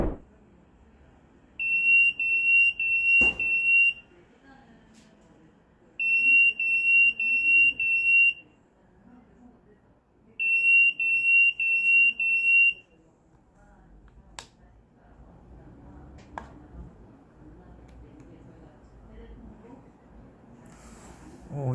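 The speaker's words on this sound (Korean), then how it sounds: "이 일산화탄소 경보기가 일정 수준 가스를 흡입하고 나면 경보가 어떻게 울리는지" A carbon monoxide alarm sealed in a plastic bag with injected gas sounds three separate bursts of rapid, shrill, high-pitched beeping, each lasting about two seconds with quiet gaps between, followed by faint room noise and a few clicks.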